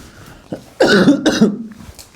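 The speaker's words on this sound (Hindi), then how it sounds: "खांसी आने लग गई सर्दी की वजह से" Two harsh coughs from a cold in quick succession, close and loud, with a small catch in the throat just before.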